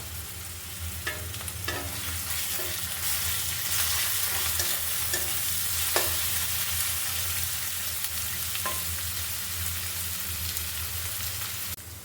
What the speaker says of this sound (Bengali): রসুন বাটাটা একটু লালচে লালচে হবে। তারপর দিলাম কাঁচা লঙ্কা,